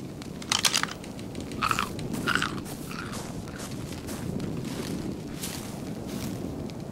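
A character in the video game Ark Survival Evolved eats with crunchy bites and chewing in short bursts over steady wind-like background noise.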